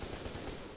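Rapid gunfire in the video game F.E.A.R. 2: Project Origin, a dense, steady burst of automatic shots with low thumps throughout, loud and continuous with no talk over it.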